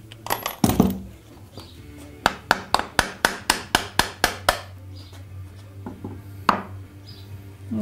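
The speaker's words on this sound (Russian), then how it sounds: "Пожалуй, здесь понадобится молоток из другого материала." Hammer striking parts while a Chinese motorcycle is taken apart: a run of about a dozen sharp, evenly spaced metallic blows, close and loud, with a few scattered knocks around them.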